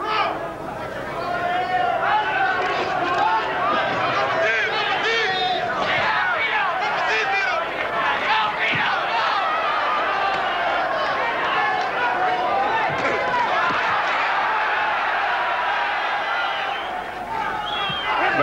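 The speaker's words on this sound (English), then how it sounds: "American crowd rather eager to cheer Vito on" An American boxing crowd cheers and chatters for Vito Antuofermo, a dense arena roar with swelling shouts, under a commentator's voice throughout.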